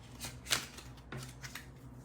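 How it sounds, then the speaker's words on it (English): A deck of tarot cards being shuffled by hand: two quick papery riffling bursts, close and fairly soft, the first sharper, over a faint low background hum. "I don't know why I just shuffled the deck even"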